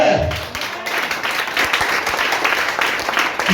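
A church congregation applauding during a worship service, a loud, dense burst of many hands clapping that holds steady throughout.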